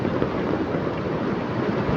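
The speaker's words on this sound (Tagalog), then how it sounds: "Galit na galit ang tubig." Raging floodwater of a swollen river in Laguna during Typhoon Kristine, a dense continuous roar with wind buffeting the microphone, steady and loud with no voices.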